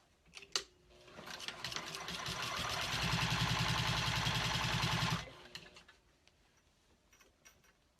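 A Juki 2000 QI sewing machine stitches with a long stitch length, running steadily and loud at close range for about four seconds before stopping, with a rapid mechanical ticking throughout and no talk.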